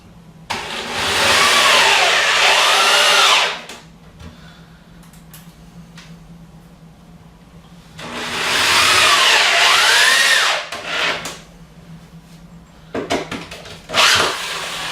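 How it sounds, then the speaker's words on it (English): A power drill driving screws into wood whirs in two long bursts of about three seconds each, with short quiet gaps between and a brief final trigger pull. "just take the drill"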